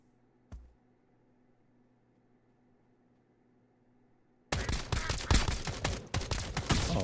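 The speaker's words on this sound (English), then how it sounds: "I take the special AP ammo as well" Rapid, loud bursts of automatic gunfire with special armor-piercing ammo in a video game erupt suddenly after a nearly silent stretch with one faint click, then continue densely to the end.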